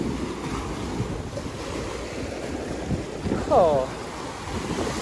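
Cool wind gusting steadily at the Bali Hai pier viewpoint in Pattaya, a continuous rushing roar buffeting the microphone with surf-like noise and a brief tonal chirp near the end.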